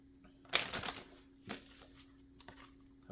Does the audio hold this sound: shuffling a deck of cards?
yes